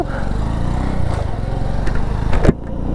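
A Honda Wave motorcycle engine runs steadily up close, a continuous buzzing drone that surges slightly near the end before dropping back.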